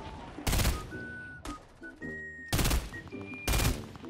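Compact SMG gunfire in Fortnite, several loud sustained bursts of rapid shots in a busy battle, separated by shorter gaps with game effects and chimes, no talking.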